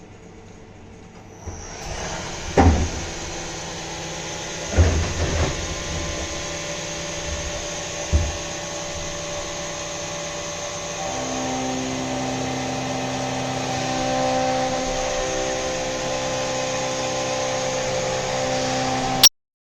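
A CNC mill with a 5th-axis trunnion starts a 3+2 machining program: a steady high spindle whine rises, a few clunks and bumps follow, then the cutting tone deepens into a sustained, loud machining drone.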